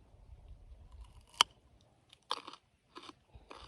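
A raw Danvers Half Long carrot snaps with one sharp bite, then is crunched in three loud close bursts of chewing, with quiet gaps between.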